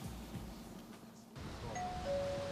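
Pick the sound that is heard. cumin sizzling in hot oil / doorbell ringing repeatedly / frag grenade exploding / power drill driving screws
doorbell ringing repeatedly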